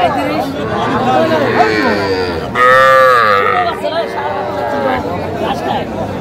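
Several young bull calves at a cattle market in Faridpur, Bangladesh moo loudly and repeatedly, overlapping one another amid a busy crowd murmur, with one strong moo standing out midway.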